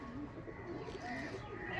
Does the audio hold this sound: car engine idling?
no